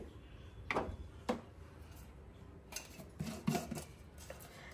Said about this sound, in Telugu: ఇప్పుడు కడాయి పెట్టుకుని స్టవ్ వెలిగించుకుందామండి.